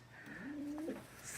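A racing pigeon in a loft gives a single soft, low coo, faint and close, over a quiet background hum.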